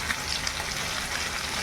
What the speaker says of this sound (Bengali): মাংস কষাই করবো